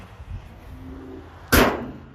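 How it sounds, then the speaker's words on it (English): The hood of an old high-mileage vehicle with a Toyota engine, Ford spark plug wires and a Chevrolet distributor slams shut in one sharp, close metallic bang after a brief quiet stretch. "Let's put the hood down"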